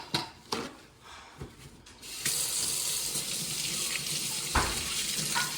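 Tap water running into a kitchen sink while a wound is rinsed: a few handling knocks, then a steady, close rush of flowing water splashing in the basin.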